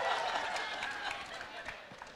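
An audience at a book launch celebration claps and cheers in a dense, even patter of applause, fairly close, with voices mixed in.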